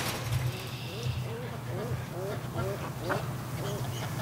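Muscovy ducks and geese around a nesting shed on a warm day, a steady series of nasal honks and quacks at close range over a constant low hum, with a person talking now and then.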